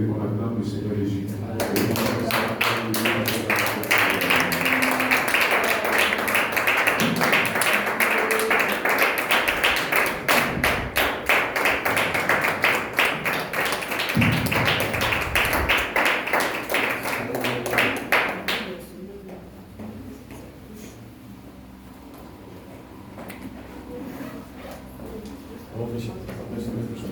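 Church congregation standing to acclaim Jesus, rhythmic clapping and loud cheering filling the hall for about eighteen seconds before dropping to quieter murmuring voices.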